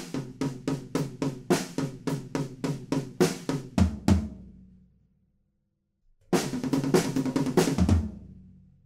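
Drum fill from a song leading into the pre-chorus: rapid, evenly spaced loud hits ending in a crash that rings out, a short silence, then another dense burst of hits and cymbal, close and alone.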